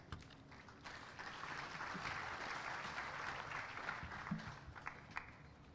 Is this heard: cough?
no